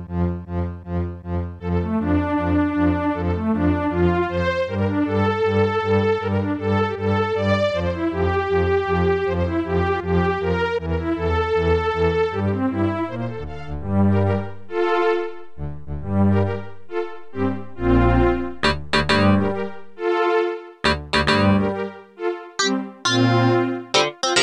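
Wizardry 7 DOS game music plays through a Roland MT emulator: sustained synthetic organ-like chords and a melody line run steadily, then break into choppier staccato stabs and bright hits in the later half, loud with no talking.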